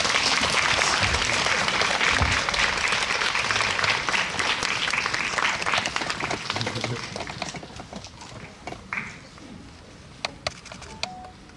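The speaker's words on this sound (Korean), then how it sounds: "좀 박수 주실까요?" Cinema audience applauding at a film talk event in a CGV theater, a loud dense burst of clapping that gradually thins and fades, ending with a few scattered claps.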